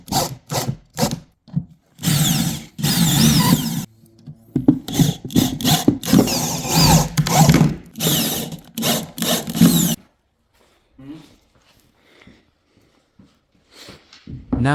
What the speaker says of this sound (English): To make our table very strong, we need to attach it with several screws.